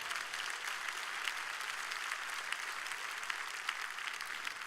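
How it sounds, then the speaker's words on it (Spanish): A church congregation breaks into steady applause, a dense, even patter of many hands clapping at moderate distance and continuing throughout without voices. "Le doy un aplauso a Jesucristo."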